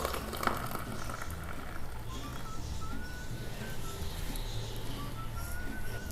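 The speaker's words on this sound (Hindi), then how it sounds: "मग में दूध डालें" Frothy milk poured from a jug into a mug for homemade cappuccino, a soft steady liquid hiss and bubbling at close range that runs evenly throughout, with a faint tonal whine in the background.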